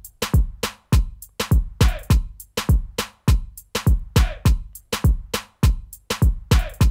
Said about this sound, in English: This one is a rim shot.